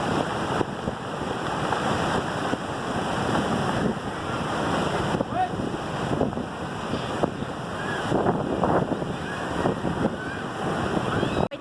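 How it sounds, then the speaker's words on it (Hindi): Rough sea waves wash in continuously at Hawks Bay beach in Karachi, a loud, steady surf roar heavily mixed with gusty wind buffeting the microphone, with no clear speech. "पानी का इस वक्त बहुत ज़्यादा लहर है पानी की।"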